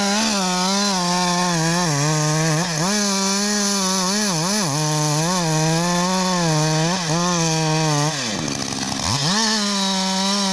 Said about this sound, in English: The razor-sharp chainsaw screams in bursts,